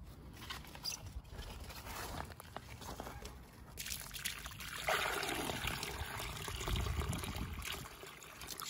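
Water is poured from above into a container on an allotment plot, with a continuous trickling and splashing stream that grows fuller partway through, heard up close and alone.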